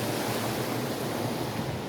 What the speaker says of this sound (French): Oh, je passe le ruisseau.